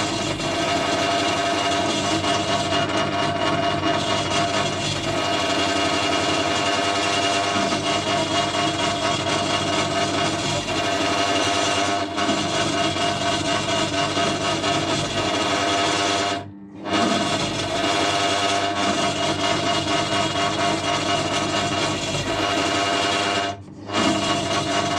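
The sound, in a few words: drill drilling out a broken bolt on a Mountfield mower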